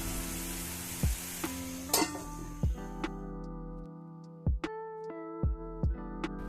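Chicken with sliced green chilies sizzling in a pan, steady frying hiss broken by several sharp clinks and scrapes of a utensil stirring against the metal, close up.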